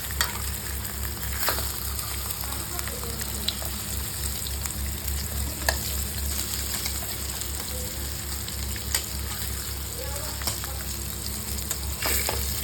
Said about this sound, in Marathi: मी आता ह्या पाचू फिशही फ्राय करून घेते